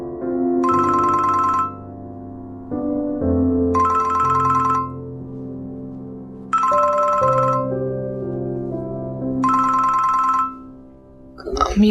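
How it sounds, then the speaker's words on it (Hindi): A phone ringtone plays in a home setting from a Pakistani drama, four bright repeating bursts of ringing over soft background music, close and clear, with no talk. "अम्मी का फोन है।"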